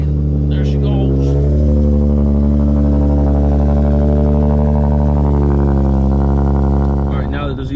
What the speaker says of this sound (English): let's get this little cold start started